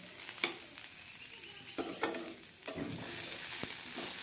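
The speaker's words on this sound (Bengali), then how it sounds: "দেখো কচুটা আমি ভেজে নিয়েছি, খুবই হালকা করে।" Pieces of mankochu taro frying lightly in a pan, a soft steady sizzle with scattered pops and the occasional scrape of stirring, growing a little louder toward the end.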